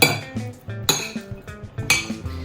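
A fennel salad dressed with lemon juice is tossed in a bowl, giving close, bright clinks and scrapes of utensils against the dish in a few quick bursts, with nobody speaking.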